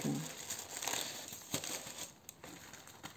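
Parcel being wrapped for shipping, with close crinkling and rustling of packing material in irregular bursts and a few sharper handling taps, no speech.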